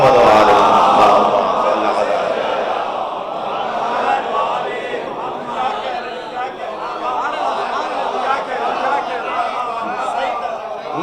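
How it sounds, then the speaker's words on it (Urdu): A large crowd at a live Eid Miladun Nabi gathering recites salawat loudly together, a dense, sustained wash of many voices chanting at once, steady and close for the whole stretch. "بلندتر صلوات پڑھیں گے محمد و آل محمد"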